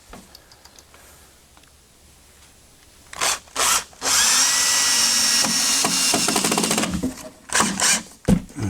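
A power drill runs in a garage, driving screws into plywood shelving: a few short bursts, then one long sustained whir of several seconds, followed by more brief pulses, close and loud.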